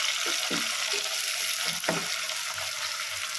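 Tomatoes sauté in a pan for plain kara kulambu, with a continuous bright sizzle and a few soft stirring scrapes and taps near the start, close and moderately loud, without speech.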